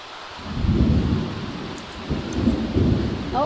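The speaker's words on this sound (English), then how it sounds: "Is it ever going to stop raining?" Steady heavy rain with low, rolling rumbles of thunder swelling and fading across the clip, in a video game.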